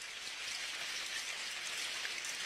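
Heavy rain falls in a steady, dense hiss with scattered drop patter, constant and fairly soft, with no voices.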